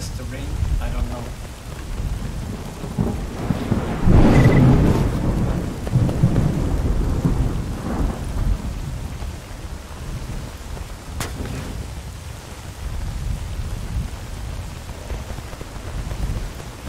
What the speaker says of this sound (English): Or is it just the rain?